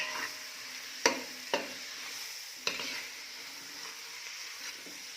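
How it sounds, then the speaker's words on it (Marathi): Chopped tomato and spice mixture sautéing in a pan: a soft background sizzle punctuated by a few sharp scraping knocks of a spoon stirring, close and fairly quiet, with no voices. "2 ते 3 मिनटं हे सर्व मिश्रण परतून घेऊयात"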